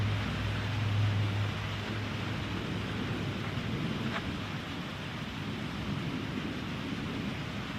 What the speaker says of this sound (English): You're just gonna have to listen to the storm.